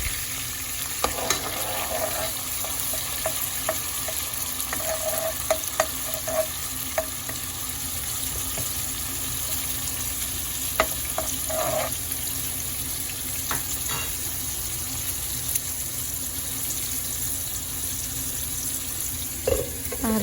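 Fish frying in a pan, a steady low sizzle running throughout with scattered sharp pops and crackles, close by and moderately loud, with no voices.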